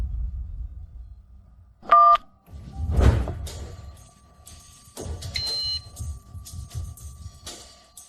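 A telephone number is dialed on a keypad, a quick burst of tones, followed by a thunk and busy indoor room noise with clicks and rustling.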